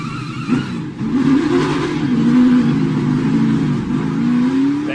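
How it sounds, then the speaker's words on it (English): Chase Elliott's 2016 race car engine revs and strains at launch from the pit, its pitch rising and dipping as the clutch is worked to get the rear tires to hook up, loud and close with no talk. "Now listen to the work Chase does with the clutch to try to get these rear tires to hook up."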